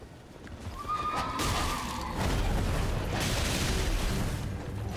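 A horse whinnies loudly over a dense rumbling, crackling Elden Ring soundscape, with hooves clopping and heavy frost-attack effects throughout.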